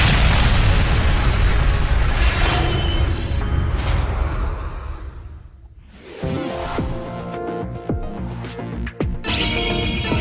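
Mystic Shot attack from the video game Lost Dimension: a loud, dense booming explosion with a rushing burst, fading out before game sounds and music resume, with no talking.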